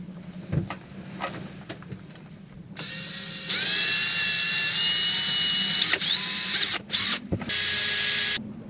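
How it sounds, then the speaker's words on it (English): A power drill starts after a few quiet taps, whining steadily at high pitch, briefly dipping and revving before continuing loudly, drilling on a boat. "how much I want to drill, and then I put a mark on the drill bit"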